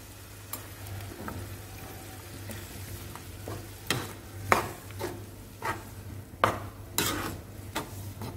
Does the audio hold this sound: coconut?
yes